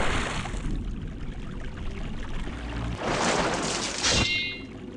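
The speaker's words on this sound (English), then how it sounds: "Ice cold water. Let's take a dip." A splash into ice-cold water in the video game Rune Classic at about three seconds, followed by a second watery burst and a trickling shimmer, over steady game music and ambient noise.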